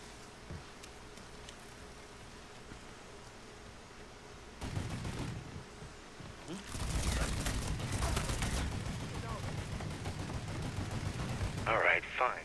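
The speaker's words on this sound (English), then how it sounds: "Keep shooting at him, boy." Gunfire in the video game Mafia 3, quiet at first, then bursts of heavy gunshots and automatic fire from about five seconds on, continuing loudly with overlapping shots to the end.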